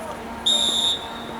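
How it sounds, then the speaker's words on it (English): A referee's whistle at a men's college soccer match sounds one bright, sustained blast of about half a second, loud and clear above the steady crowd and field ambience. "Whistle blows."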